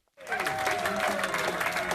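Campaign staffers in Trump Tower cheering as election victory closes in, a sudden burst of applause and crowd cheers with whistles that starts abruptly and holds loud and steady.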